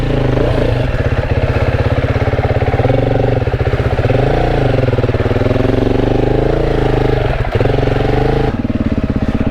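A Beta 480 RR dirt bike engine runs loud and close, holding a rough, throbbing idle-to-midrange drone with small swells in pitch and a brief dip near the end, with no talking.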